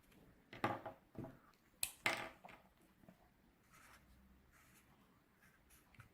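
A pen draws on paper, sketching a tree for a pinhole-camera demonstration: a few close, scratchy strokes in quick bursts near the start, then quieter, lighter marks trailing off.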